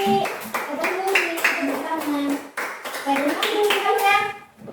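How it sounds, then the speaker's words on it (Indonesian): A classroom of children claps for a group in quick rhythmic bursts, the sharp hand strikes close and lively, mixed with children's voices calling out along with the beat. "tepuk tangan buat kelompok 1"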